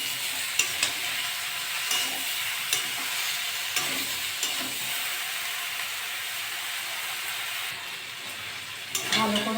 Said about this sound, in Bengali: ভালো করে আমার কষা হয়ে গেছে, আলু সিদ্ধ হয়ে গেছে।